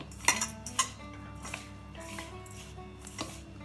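A spoon mixes ground coconut with cardamom powder in a bowl, giving scraping and clinking up close with a few sharper taps of metal against the dish.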